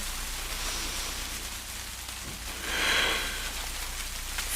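Steady soft rain falling on the ground outdoors, a constant faint hiss of drops with a slight swell partway through; no voices.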